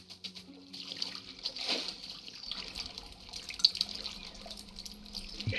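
Flowing water in The Wilds survival game plays as a steady trickling, splashing wash at moderate level with no voices.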